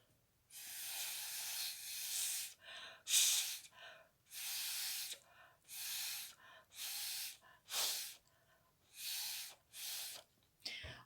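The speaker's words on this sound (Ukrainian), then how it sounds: "Далі ми беремо коктейльну трубочку і будемо дути нашу водичку, щоб загасити вогонь." Watery paint blown across paper through a thin cocktail straw during a children's art lesson: a series of about eight breathy, hissing puffs, each a second or so long with short pauses between them, close and fairly quiet.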